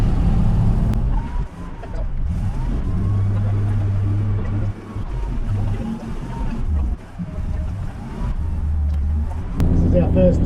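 A Toyota Troopy accelerates around Australia's Mount Panorama racetrack, its engine a loud, steady low drone from inside the cabin with a few brief dips in level.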